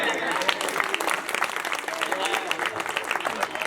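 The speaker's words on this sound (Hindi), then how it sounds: "ताली एक बार।" Applause from a live audience at a Hindi comedy poetry stage show, a dense, steady patter of many hands clapping close and loud throughout, with voices mixed in.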